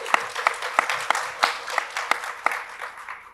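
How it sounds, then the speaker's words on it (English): Audience applause at a clean technology panel event, a moderate wash of many hands clapping with distinct sharper claps standing out, steady and fairly close, fading slightly toward the end. "Please give him a big applause."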